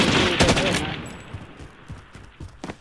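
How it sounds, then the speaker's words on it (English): Rapid gunfire from a Call of Duty: Modern Warfare match, loud bursts packed densely at the start, then thinning into scattered nearer and farther shots over a low rumble. "They're shooting at me."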